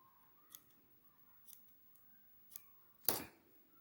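Scissors snip crochet yarn in a few quiet, separate cuts, with a louder, sharper final snip close up in an otherwise quiet room.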